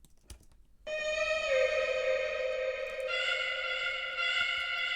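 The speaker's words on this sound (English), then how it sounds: "So I have an atmospheric sound here" An atmospheric synth sound from a music production session swells in after a brief quiet moment and holds as a bright, steady sustained tone with one small tonal shift partway through, alone without talk.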